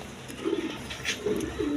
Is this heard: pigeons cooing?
yes